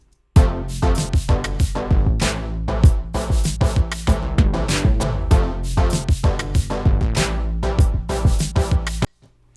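Punchy kick drums thump through a dense music mix, hitting in a steady driving pattern alongside bright cymbals and other instruments until it stops abruptly.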